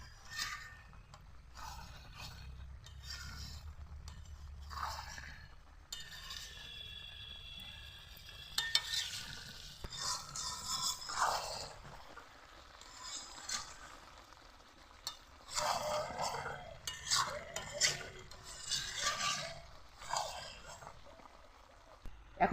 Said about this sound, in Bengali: মাংসটাকে কিছুক্ষণ কষিয়ে নেব।